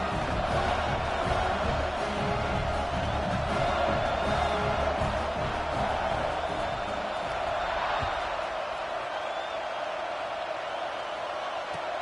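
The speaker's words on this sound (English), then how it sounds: "this crowd is buzzing after that last score" Stadium crowd buzzing after a score in a college football video game, Texas A&M against Tennessee, a steady, moderately distant murmur of many voices that holds throughout.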